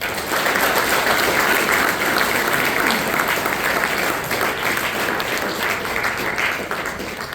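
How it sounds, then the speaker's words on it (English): An audience gives a sustained round of applause for Mason Mims at his signing event, a dense, steady wash of many clapping hands filling the room throughout, fading slightly toward the end. "let's give Mason a round of applause"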